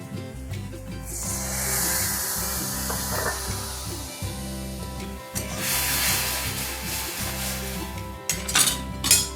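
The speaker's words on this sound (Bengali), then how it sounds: "এখন আমি দিয়ে দেব সামান্য পরিমাণ একটু জল।" Water is poured into spices frying in oil for kochur loti bhuna, giving a loud hissing sizzle that swells and then slowly fades, close up under soft background music.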